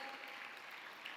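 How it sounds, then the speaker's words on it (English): Parents applauding at a primary school annual day, a faint, even patter of many hands clapping continuously with a few brief peaks. "Parents, keep applauding."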